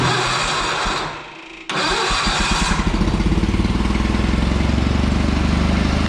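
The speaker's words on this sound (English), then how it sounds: "So, let me start it up here." A warm John Deere 400 garden tractor engine cranks briefly, catches and settles into a loud, steady, close-up idle with a rapid even throb.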